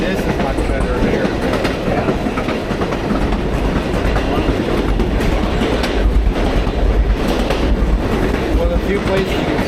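Reading & Northern #2102 steam excursion train rolls along the tracks on a fall foliage run with a loud, steady rumble and clickety-clack of railcar wheels, continuous and close throughout.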